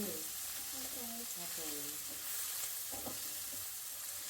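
Onions sautéing in a pan for a cauliflower sabzi, a steady close sizzle with occasional stirring scrapes and faint background voice.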